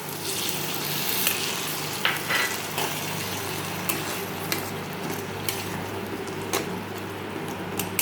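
Water poured into a frying tomato and date chutney with cashews, raisins and grated coconut makes a steady, moderately loud sizzle, with occasional clinks of a utensil against the pan.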